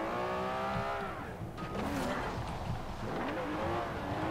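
A Ferrari in the racing game Forza Horizon 4, its engine revving and climbing through gears with rising whines and brief tyre noise, loud and close throughout.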